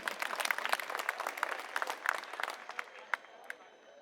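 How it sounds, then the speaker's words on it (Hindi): Scattered clapping from a crowd at a political rally in Kirari, Delhi, sharp distinct claps that start fairly busy and thin out to a few isolated ones, moderately near and not very loud. "मैं चाहूंगा एक बार जोरदार तालियां अपने लिए आप लोग बजा लीजिए।"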